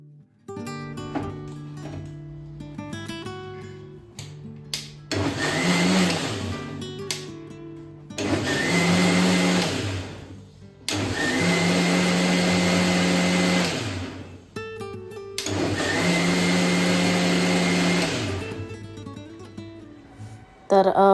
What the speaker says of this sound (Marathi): ते टाकून ना चालू बंद करत असं मी मिक्सरला लावून छान फिरवून घेतलं.